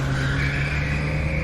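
A car engine roars at high revs with a sustained tire squeal, loud and close, holding steady throughout.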